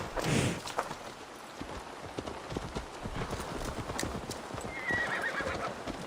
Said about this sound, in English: now another horse shows up, and he still refuses to hop on